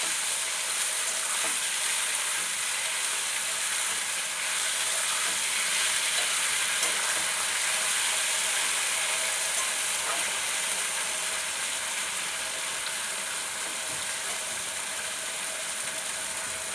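Taro stolons (kochur loti) frying in hot oil with five-spice tempering in a pan, a steady loud crackling sizzle that runs throughout, with faint scraping from stirring.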